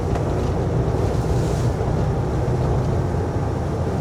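Dense, heavy snow mixed with ice pellets strikes a snowplow truck during plowing, a continuous loud rushing roar with steady broadband hiss and low rumble, no gaps, like constant spray against the body.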